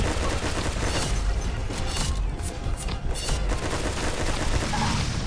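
Continuous gunfire from the Waterman's Rifle, a water machine gun in the Pixel Gun 3D video game, rattles in dense, loud bursts throughout with no pauses, crowded with booms and crashes of battle.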